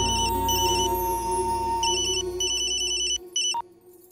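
A telephone rings with a repeating electronic ringtone, bursts of bright warbling tones in a regular pattern over a sustained low hum, loud and close, alone without talk.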